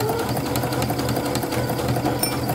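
A sewing machine stitching a bag through three layers of bulky fabric, its needle running in a rapid, even mechanical chatter at moderate volume, alone without talk.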